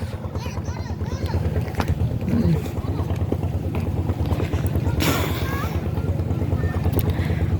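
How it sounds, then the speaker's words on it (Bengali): A motor trawler passes on the water at a busy riverside tourist spot, a steady low engine drone with wind buffeting the microphone while people talk. "যে আরেকটা আসতেছে, এই যে এর ট্রলার"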